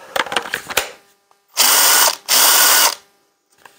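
A Ryobi 18V impact gun fitted with a 6 Ah battery runs in two sustained, loud bursts of about a second each, preceded by a rapid series of close clicking rattles.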